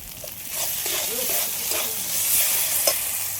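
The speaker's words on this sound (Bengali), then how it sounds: "সবগুলো ভালো করে কষিয়ে নিয়েছি আর তেলও ছেড়ে দিয়েছি" Coconut and chhana filling stir-fried in oil in a pan, with a steady sizzle and repeated scraping strokes of a spatula, close and fairly loud, no talking.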